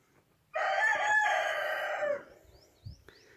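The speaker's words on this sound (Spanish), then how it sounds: "Yo digo que el gallo está avisando mi presencia." A rooster crows once nearby, a loud sustained cock-a-doodle-doo of about one and a half seconds in a quiet rural yard, followed by faint chirps.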